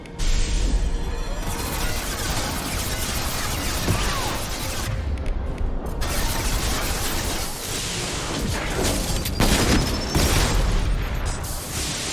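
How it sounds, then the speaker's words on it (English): A high-impact shot fired during a dense Mass Effect 2 firefight in Legendary Edition on PC, with heavy booms and mechanical clatter running continuously and loud throughout. "Firing a high impact shot."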